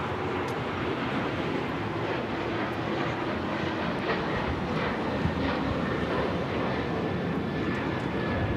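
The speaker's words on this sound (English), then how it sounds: "That was Delta Airlines 1875 taking off to Los Cabos on the 737-900ER" A Delta Boeing 737-900ER departing LAX for Los Cabos on its takeoff roll: a continuous, loud jet engine roar holds steady from start to end, with no talking.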